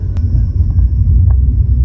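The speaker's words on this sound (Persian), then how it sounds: "صدای جیجو میشنوید، اون صدای سوپر چارجرشه بچه" Deep, loud engine rumble from a supercharged car in sport mode, a steady low drone heard from inside the cabin with faint higher whine above it.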